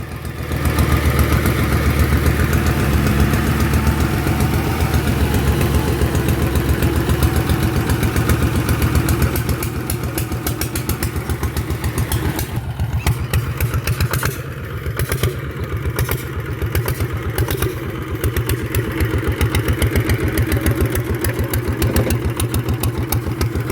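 A two-wheel walking tractor engine runs steadily while pulling a paddy-field puddler, giving a loud continuous mid-pitched chugging clatter throughout, with no one speaking over it.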